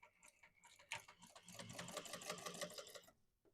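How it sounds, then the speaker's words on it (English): A sewing machine chain stitches along the bottom edge of fabric in a quiet, rapid ticking burst that runs for a few seconds and then stops. "now we're going to go and chain stitch all along the bottom part"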